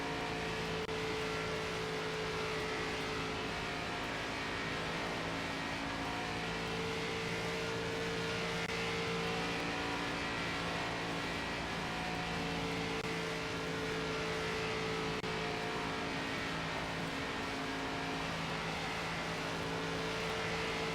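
Race car engines in the NASCAR 25 video game during an ARCA race at Kansas produce a steady, loud, sustained engine drone that holds its pitch throughout, with no talking.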